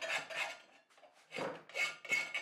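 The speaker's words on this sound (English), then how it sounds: "So I'm filing it to shape, filing, filing, still filing, still filing." Hand file rasping across a steel machete blade being shaped without power tools, heard as about five close, rhythmic scraping strokes with short pauses between them.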